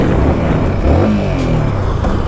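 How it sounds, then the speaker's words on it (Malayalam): Yamaha R15 V4 sport motorcycle engine running close and loud, a dense steady low rumble with slight rises in revs throughout, with no voices. "നമുക്കൊന്ന് വണ്ടി സ്റ്റാർട്ട് ചെയ്യാം."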